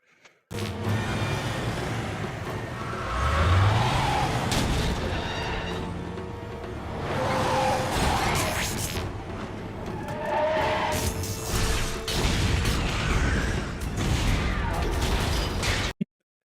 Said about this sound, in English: listen for the tiger growl and the explosion